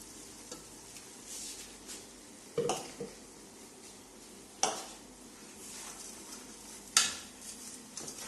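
Ground lentil powder sautéing in a pan for chicken haleem, a low steady sizzle with soft stirring scrapes and a few sharper clinks of a spoon against the pan, no voices.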